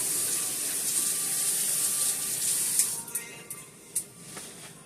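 Hands are washed under a running kitchen tap while baking peach cinnamon rolls, a steady hissing water stream that eases off near the end into a few splashes and knocks, close and moderately loud, no voices.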